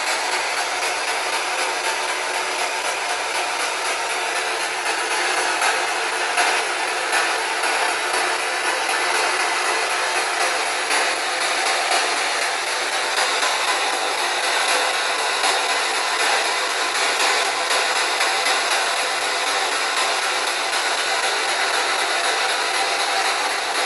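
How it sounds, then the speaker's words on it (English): Spirit box radio sweeping produces loud, continuous hissing static that holds steady throughout with faint rapid flutter, and no voices are clear. "Are you okay if we roll the spirit box?"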